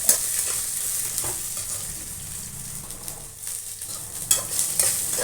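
Coriander seeds with black pepper, fennel and cumin sizzle steadily in a hot pan, a continuous crackling fry broken by occasional stirring scrapes and small pops.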